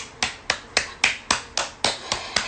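A single pair of hands claps eight times at a slow, steady rhythm, close and crisp, to open a live stream.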